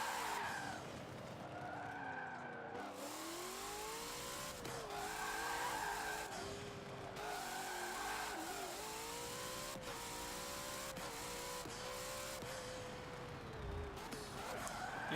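A car drifts in the racing game Forza Motorsport 7, its engine revving and wavering while the tires squeal and skid almost nonstop for several long slides, loud and steady throughout.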